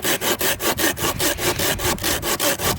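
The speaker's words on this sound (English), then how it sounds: "you get a lot more sawing action, of course" An Opinel No. 12 folding saw rasps steadily through wood in quick, even back-and-forth strokes, close and loud with no talking.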